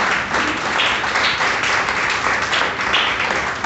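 A church congregation applauds in a steady, loud wash of clapping that fills the whole moment without pause.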